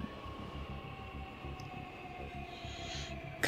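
A train at a station in the video game Oddworld: Soulstorm: a steady low rhythmic clatter of wheels rolling over rail joints, with a faint tonal hum and a brief sharp hiss near the end, no voices.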